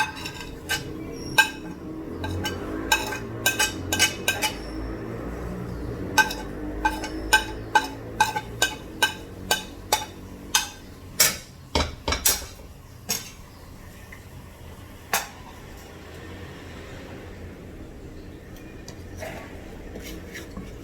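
A spoon repeatedly scrapes and clinks against a pan while chili and coriander powder are stirred into ghee, with irregular sharp metallic taps that thin out toward the end.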